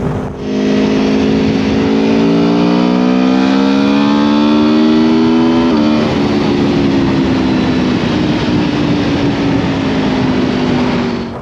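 A 2024 Aprilia Tuono 1100 Factory naked motorcycle accelerating hard on the road, its engine note climbing steadily through the revs, with a brief dip at a gear change before rising again, loud and close throughout with wind noise.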